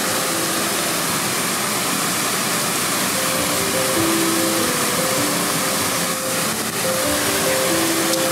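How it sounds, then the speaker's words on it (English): A waterfall gives a steady, loud broadband rush that fills the scene from start to end, with faint tonal hums over it and no talking. "Wanna see the waterfall? It's pretty,"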